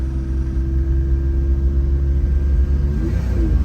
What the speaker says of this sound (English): Let's go into drive and we're gonna do a couple acceleration tests